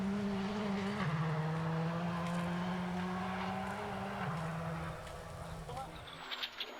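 A Porsche rally car drives a stage of the Sezoensrally, a 2022 Belgian Rally Championship round, with a sustained engine drone and audible gear changes before the sound fades toward the end.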